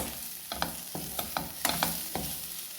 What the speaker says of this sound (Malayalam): നന്നായിട്ട് നമുക്ക് സബോളയും ഇതിൽ എല്ലാം കൂടിയിട്ട് ഒന്ന് മിക്സ് ചെയ്തിട്ട് ഇളക്കാം